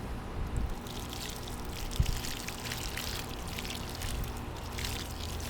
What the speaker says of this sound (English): adding water here.